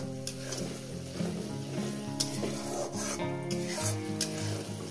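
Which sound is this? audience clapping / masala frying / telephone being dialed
masala frying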